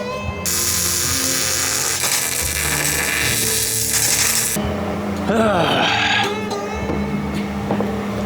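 A wire-feed welder crackles and sputters erratically and loudly at close range, its arc snapping unevenly while laying poor-quality welds.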